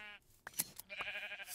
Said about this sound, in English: Oh, it was a new breed of sheep.